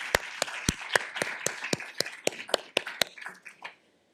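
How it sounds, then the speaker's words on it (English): Applause from a small audience at a health systems research symposium: a dozen or so distinct, evenly spaced claps over a soft wash of scattered clapping, fairly close, fading out after about four seconds. "So I just want to give a big round of applause to the whole unit."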